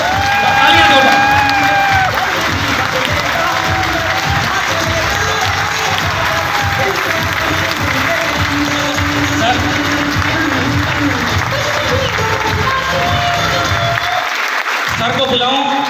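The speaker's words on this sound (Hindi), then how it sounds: "तालियों की इतनी गड़गड़ाहट करिए" A large audience at a grand welcome event for a new technical achiever applauds loudly and continuously, a dense wall of clapping with some cheering and voices mixed in that cuts off abruptly near the end.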